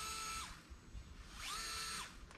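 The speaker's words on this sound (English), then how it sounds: "for this job I have a 5mm hex socket on a electric screwdriver" Electric screwdriver with a 5mm hex socket working on a 2018+ Honda Goldwing windscreen install, two short whirring runs rising and falling in pitch, close and fairly quiet, no voices.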